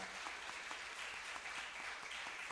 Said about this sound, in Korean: 우리 권사님들을 위해서 감사의 박수 한번 하겠습니다.